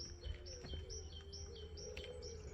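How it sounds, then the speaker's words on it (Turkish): Repeated high bird chirps in a quick, steady series along a woodland path, fairly faint against a quiet low hum, with no talking. "Kuş sesleri çok güzel ya."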